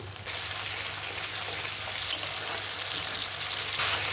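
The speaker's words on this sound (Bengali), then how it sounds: "টমেটো কেটে রেখেছি দিয়ে দিলাম" Chopped tomato tipped into a hot pan of frying onion and spices, bursting into a loud, dense, steady sizzle that holds for several seconds without talk.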